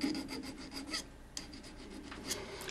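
A hand file rasps back and forth across metal, scraping old solder off a piece of jewelry under repair; close, steady stroke after stroke with brief pauses, no talking.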